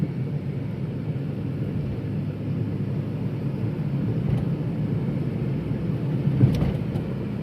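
A car accelerating from 45 to 60 in fourth gear during a driving lesson, heard from inside the cabin as a steady, loud low engine and road rumble that builds slightly over the seconds, with no talking.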